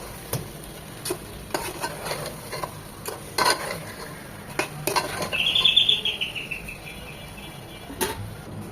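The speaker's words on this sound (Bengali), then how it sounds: "খুব ভালোভাবে মশলার সাথে চিকেনগুলো মিশিয়ে নিয়ে চিকেনগুলো কষাতে হবে" Chicken is stirred and sautéed with spices in a pan for an Eid chicken roast. A spoon gives sparse, separate knocks and scrapes against the pan over a low sizzle, and a brief bird chirp sounds faintly in the background.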